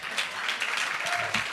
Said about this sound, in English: so do the clap thing, clap